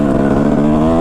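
A 2005 Kawasaki KX250 two-stroke motocross bike's engine running loud and close, a dense buzzing drone at a steady pitch for the whole brief moment, no voices.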